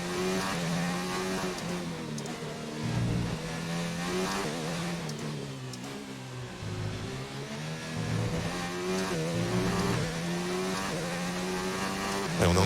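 A Formula One car engine races through the Spanish Grand Prix in the F1 2019 video game, its high-pitched whine rising and falling steadily with gear changes and cornering, loud and continuous for the whole stretch.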